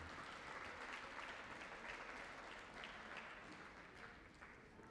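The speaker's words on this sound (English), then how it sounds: "let's give him a round of applause" A crowd at a cross country championship medal ceremony applauds steadily, a dense wash of clapping that holds at an even level throughout without any speech.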